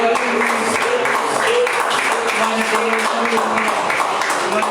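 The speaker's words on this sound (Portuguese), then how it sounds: "As palmas louvam o Senhor." A church congregation claps along during a worship service, steady dense clapping blended with singing voices and music, loud and continuous throughout.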